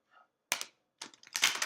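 A deck of tarot cards being shuffled, with short crisp riffling bursts and soft taps separated by brief pauses, close to the microphone and without talk.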